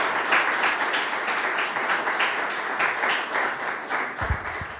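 Audience applause after a genealogy and family history lecture in the Canary Islands, a steady burst of dense clapping from a room of listeners that holds for about five seconds before thinning out.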